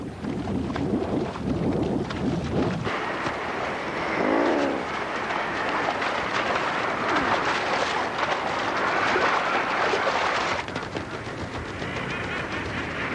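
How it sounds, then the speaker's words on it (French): Antarctic seabirds fight on a cliff, a dense wash of harsh squawks, wingbeats and scuffling that rolls on continuously at close range, loud and churning throughout with gusty background noise. "les oiseaux retournent sur la falaise et reprennent le combat"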